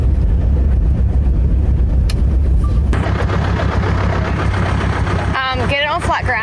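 A Toyota Land Cruiser with a rough-running fault idles steadily and loudly nearby, a low rumbling engine drone throughout, with a sharper rattling change near the end.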